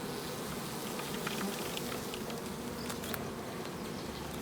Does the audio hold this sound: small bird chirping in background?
no